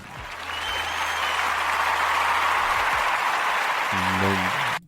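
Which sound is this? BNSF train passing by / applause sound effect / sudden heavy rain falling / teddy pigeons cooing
applause sound effect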